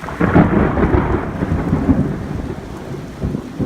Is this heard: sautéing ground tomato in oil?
no